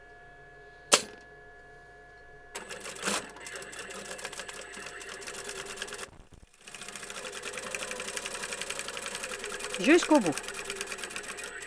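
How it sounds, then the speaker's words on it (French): A sewing machine stitching fabric along a marked line at a tight stitch length makes a rapid mechanical whirr. A short burst comes first, then longer steady runs with a brief pause, close by, while a person talks. "Et puis vous allez coudre sur la ligne tout simplement."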